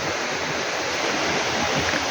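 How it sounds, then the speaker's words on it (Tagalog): Steady rushing hot spring water pours continuously, a close, even splashing flow with no pauses, in Southern Leyte. "Ayan yung tubig."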